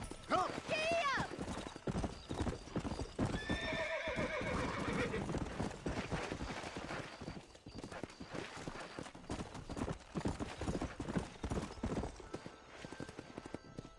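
A horse gallops and neighs in the Red Dead Redemption video game, its hooves a steady rapid clip-clop and a loud whinny ringing out near the start, over busy game sound with voices in the background.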